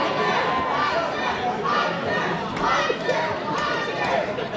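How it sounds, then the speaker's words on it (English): Crowd noise at a Capital City Wrestling match, a restless murmur of many voices with scattered shouts rising and falling as fans try to start a chant that never fully takes hold. "The crowd trying to get a little Hunter Sampson chance started right there"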